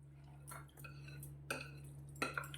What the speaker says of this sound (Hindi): और अब इन सारे वेजिटेबल को हम मिक्स कर लेंगे